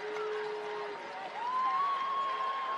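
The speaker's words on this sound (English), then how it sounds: "The student section getting up," Student section crowd making noise and cheering at a West Texas A&M vs Central Washington college football game, a steady distant roar from across the field with a sustained horn-like tone rising over it.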